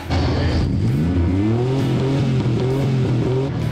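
A car engine in a racing video game revs up and holds a rising, throaty drone, pitch climbing and settling in waves, with no talking over it.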